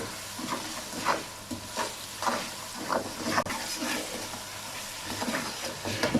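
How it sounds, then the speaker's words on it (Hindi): Powdered spices frying with tomatoes in a pan for vegetable rice, a steady low sizzle broken by rhythmic scraping strokes of a stirring spoon, close by. "अब इसमें तमाम पाउडर मसाले डाल देते हैं। इसे 1 से 2 मिनट के लिए भून लेंगे।"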